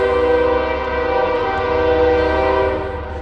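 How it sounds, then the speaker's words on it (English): A train horn blows loud and close in a sustained, rich chord over the low rumble of the passing train, holding for several seconds before starting to fade. "You see how that train do?"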